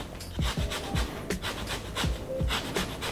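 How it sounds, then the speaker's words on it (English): An orange is zested on a grater into sugar and butter for marmalade biscuit sandwiches, giving repeated close rasping scrapes in a steady back-and-forth rhythm. "we're going to zest about half of an orange into there."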